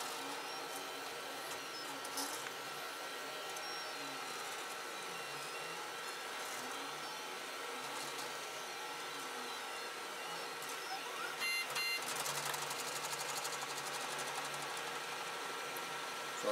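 An FLSUN 3D printer runs a print job with a steady, continuous whir of stepper motors and fans, close and even throughout, with a brief louder rattle near the end.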